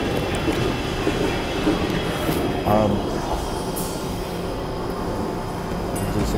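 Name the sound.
train arriving at Birmingham New Street station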